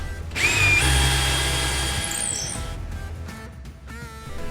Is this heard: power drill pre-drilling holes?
yes